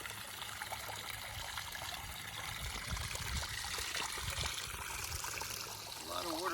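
Water from a pondless waterfall trickles and splashes steadily and close by, a continuous outdoor flow with no break across the stretch.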